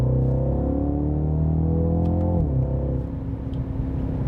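A BMW X2 M35i's turbocharged four-cylinder engine drones loudly and steadily while the car drives, then its pitch drops and shifts as the car downshifts into third gear, heard from inside the cabin.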